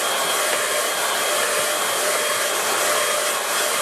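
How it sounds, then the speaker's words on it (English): Close and loud, an air dryer runs without pause to speed the drying of watercolour paint on a Loch Awe landscape, a constant hissing rush of air with no speech over it. "I use the air dryer just to speed things up"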